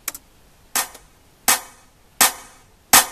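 Snare drum hits during mixing with emphasized attack, five sharp cracks at an even, slow pace, each with a short decaying tail, loud and dry with no talking.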